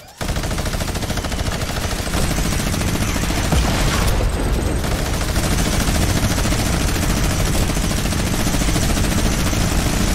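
A minigun in Fortnite Battle Royale roars in one long, unbroken burst of rapid fire that lasts about ten seconds, loud and close and dense throughout.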